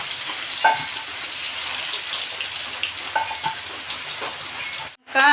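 A bay leaf tempers in hot oil left from frying fish and potatoes, giving a loud, dense crackling sizzle with a few stirring knocks. The sizzle breaks off briefly near the end.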